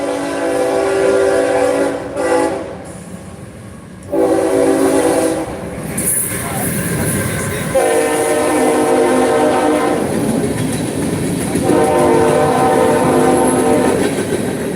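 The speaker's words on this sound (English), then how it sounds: "that train is what you hear" A train passing close by, with a steady loud rumble and rolling clatter of railcars lasting throughout, broken by repeated long horn blasts.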